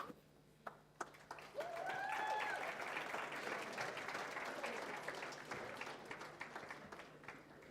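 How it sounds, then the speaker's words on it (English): Audience applause for a grade 9 Herzliya High School learner placing third at the South African Mathematics Foundation awards function: a few isolated claps, then sustained steady clapping from a sizeable indoor crowd with voices briefly rising over it. "keep applauding him"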